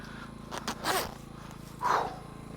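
Two short scraping zips, close by and fairly quiet, separated by a brief pause, with a low background hum underneath.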